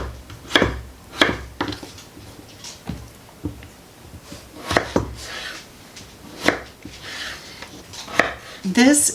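Potatoes are chopped into bite-sized pieces with a knife on a cutting board, a series of sharp, close knocks at uneven intervals over faint background noise.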